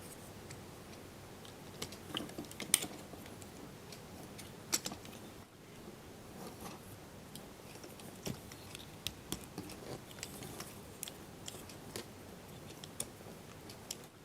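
Plastic parts of a Transformers MPM-4 Masterpiece Movie Optimus Prime toy being folded, faint scattered clicks and ticks over a quiet room, with a few sharper snaps.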